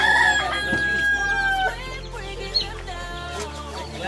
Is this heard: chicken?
yes